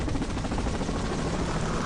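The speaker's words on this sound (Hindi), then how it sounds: "फिर ओरहान इस हेलीकॉप्टर में बैठता है और इसे उड़ाकर फजा में चला जाता है" An animated helicopter flies over a jungle, its rotor producing a steady, dense, pulsing drone that stays loud and even throughout, with no speech.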